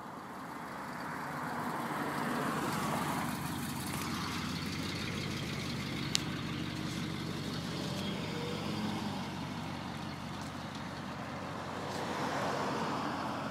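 A vehicle towing a 1957 Westerner trailer passes with a steady engine and road rumble, a broad continuous wash that swells slightly at the start and end, with no voices.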